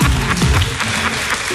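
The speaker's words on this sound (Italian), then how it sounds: "Applaude anche Bibi" Applause in a radio studio, a dense steady patter of many hands clapping at once, loud and close, holding at an even level throughout.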